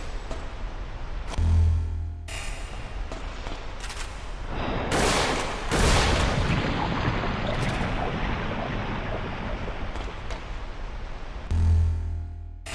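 Missiles firing in a video game, repeated loud blasts and rushing whooshes over a dense, continuous roar of explosions and gunfire-like noise, with a few deep thumps.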